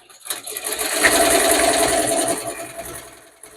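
A BAI embroidery machine starts up and stitches, a loud, close, continuous mechanical whir with fast needle chatter that builds, holds steady and winds down near the end.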